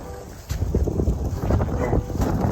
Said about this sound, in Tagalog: Lakas pa rin ang hangin po dito.